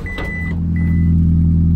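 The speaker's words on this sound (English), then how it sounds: "Get that annoying Prius backup beep." A modified, shortened Toyota Prius with its exhaust cut off gives high electronic backup beeps, a long tone then a second starting, over a loud, low, rumbling idling engine drone.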